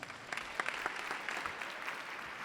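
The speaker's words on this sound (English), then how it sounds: "Give him a nice big round of applause." Audience applause after a call to welcome a guest at a client-attraction talk, a steady wash of many hands clapping at moderate level, with a few sharper claps standing out.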